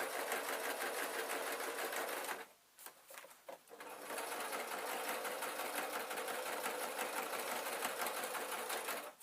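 A sewing machine runs steadily, stitching the last seam of a hard-wearing peg bag, in a quiet indoor setting: a fast continuous whir, briefly pausing near the middle before resuming at a constant pace.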